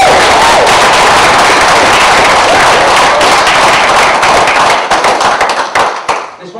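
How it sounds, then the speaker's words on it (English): Loud, dense applause from an awards presentation audience, a full room clapping steadily before thinning out near the end. "So a round of applause for everyone."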